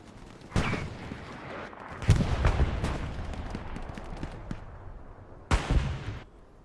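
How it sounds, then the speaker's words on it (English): Explosions and gunfire in the World War II shooter Hell Let Loose during a competitive match, with sharp bursts at intervals over a steady rumble of battle, one blast ending abruptly. "That was a very abrupt explosion, kind of just cut halfway."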